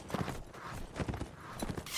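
Horse hooves clip-clop in the medieval battle game Mount & Blade: Warband, a quick irregular run of soft thuds that comes in clustered bursts at moderate volume.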